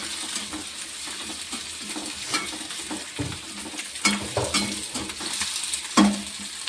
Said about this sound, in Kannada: ಇದು ಫ್ರೈ ಅಲ್ರಿ ಈ ರೀತಿ ಮಾಡಿ ಹಾಕೋದ್ರಿಂದ ಬಿರಿಯಾನಿ ಸೂಪರ್ ಆಗ್ತದೆ